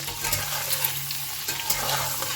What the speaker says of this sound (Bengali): ডিমটা কিন্তু আমি নুন হলুদ দিয়ে একটু ভেজে নিচ্ছি